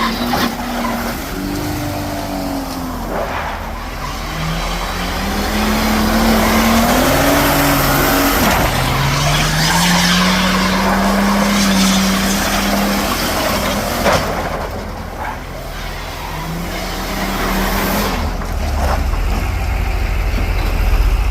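A Mercedes car does a burnout with loud, sustained engine revving that climbs and falls in long sweeps, layered over continuous tire squeal and noisy roar, with no talking.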